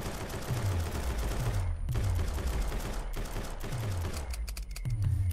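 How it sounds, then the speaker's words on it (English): Homing missiles in the horror game Unnatural Benighted, a dense barrage of repeated launches and explosions with descending whooshing swoops recurring about once a second, loud and continuous. "Oh, that's homing missiles"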